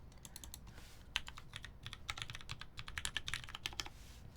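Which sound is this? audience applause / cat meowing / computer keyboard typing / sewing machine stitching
computer keyboard typing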